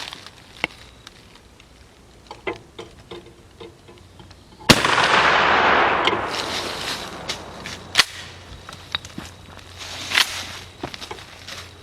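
A shotgun loaded with 00 buckshot fires once from a bench rest outdoors: a sharp, loud blast with a long, fading tail, surrounded by faint clicks and handling noises before and after.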